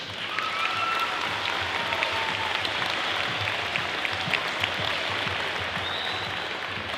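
Audience applause for a police chief at a fentanyl awareness gathering, sustained dense clapping from a large crowd filling the room at an even level for several seconds.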